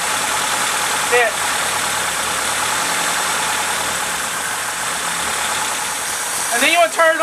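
Car engine idling roughly with a vacuum line pulled during a Seafoam treatment, a loud steady rumble throughout with brief speech near the start and the end.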